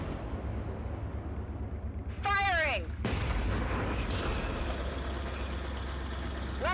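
Heavy artillery cannon fire in a Warhammer 40,000 battle scene, a loud booming shot with a sharp descending whine before it, then a rumbling blast and dense engine and battlefield noise that continues to the end.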